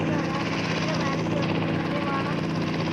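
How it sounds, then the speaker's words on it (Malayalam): A helicopter in the mobile game Indian Bike Driving 3D gives a steady, loud rotor and engine drone, even and unbroken throughout. "ഞാൻ ഹെലികോപ്റ്റർ പറപ്പിച്ചുകൊണ്ട് നേരെ നമ്മൾ സ്പീഡിൽ പോകും"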